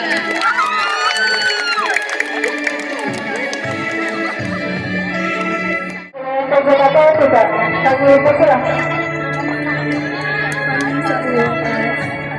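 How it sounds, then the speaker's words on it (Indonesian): A school audience at a scout fashion-show competition cheers and shouts for a class group, with loud whoops and high children's voices rising over a dense crowd roar; a brief dip midway, then the cheering swells again. "Tepuk tangan yang meriah untuk kelompok dari kelas 10 AKL 3."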